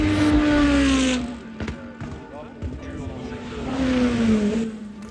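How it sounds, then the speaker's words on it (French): Race cars at the 24 Hours of Le Mans sweep past one after another with rising and falling engine whines and Doppler drops, some near and some farther off, while the crowd rumbles in the background. "Là, regardez-moi ça, les voitures qui passent"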